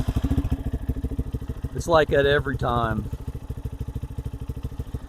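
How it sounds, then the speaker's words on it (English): A 2023 Lifan KPM 200cc motorcycle engine with a performance exhaust idles with a rapid, even chugging putter, close by; a person speaks briefly over it midway before the idle continues alone. "let me start it up and let you hear it"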